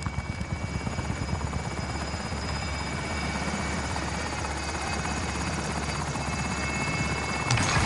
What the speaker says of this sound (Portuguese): Helicóptero em posição, pronto pro depósito.